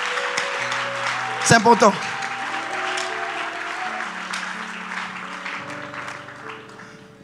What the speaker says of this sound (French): Acclame d'abord très fort là où tu es